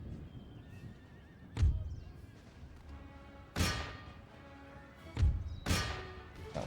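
Cavalry horses in the video game Empire: Total War give several loud, sharp neighs and whinnies, spaced a couple of seconds apart, with dull thuds under a low battle hum.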